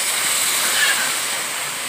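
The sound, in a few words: water added to hot cooking pan, sizzling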